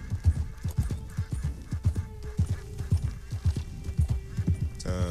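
A horse in the video game Red Dead Redemption 2 clip-clops along at a steady walking rhythm, its hooves sounding close and clear. It lets out a short whinny at the end.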